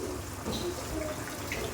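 Water pours into a pot of leftover broth from boiled crabs in a home kitchen, a steady close splashing trickle running throughout with no talk.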